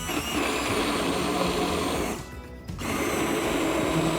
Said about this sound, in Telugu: ఇప్పుడు దీన్ని నేను బ్లెండ్ చేస్తాను